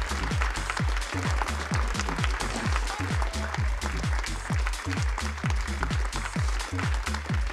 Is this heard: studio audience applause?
yes